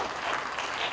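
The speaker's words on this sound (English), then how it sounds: "Another round of applause" A brief burst of audience clapping at a Bollywood Hungama OTT India Fest press conference for Manoj Bajpayee, a dense, even patter that holds steady for a moment.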